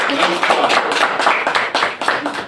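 Clapping for a student in a classroom, a dense, steady patter of many hands kept up for a couple of seconds, fairly loud and close, with voices mixed in.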